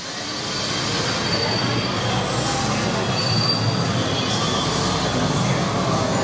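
Hogwarts Express ride train at Universal Orlando, wheels squealing steadily on the rails with a constant rumbling roar throughout, close and loud, with no talking.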